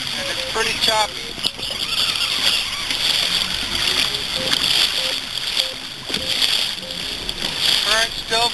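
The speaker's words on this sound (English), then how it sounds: "The waves are coming out of the north, and it's pretty choppy." Choppy north waves slap and splash against a fishing kayak on the Mexiquita Flats, a loud continuous sloshing with rough wind buffeting throughout.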